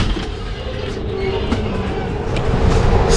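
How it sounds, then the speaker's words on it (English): Steady, dense rumble of a train at a railway station in Montenegro, continuous and fairly loud, with faint clanks and a hint of distant voices underneath. "I'm waiting for the next train going to the right way"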